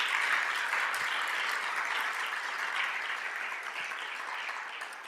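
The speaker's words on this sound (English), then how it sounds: "let's please give the Rubenstein family a round of applause" A lecture-hall audience gives sustained, even applause for the Rubenstein family, the dense clapping slowly fading over several seconds.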